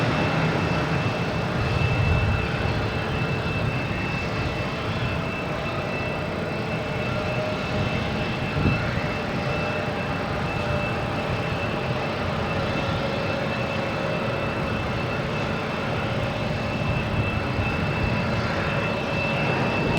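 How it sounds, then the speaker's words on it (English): A JetBlue Airbus A220 taking off at Boston Logan, a loud, sustained jet engine roar with a steady whine, holding at near-constant intensity for the whole stretch with no voices. "next taking off is a JetBlue heading to Charleston, the A220"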